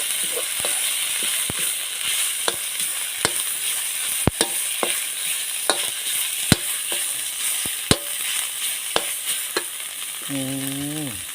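Curry paste stir-fries in a pan for a home-style canned fish and egg dish: a steady soft sizzle broken by regular sharp scrapes and clicks of a utensil against the pan.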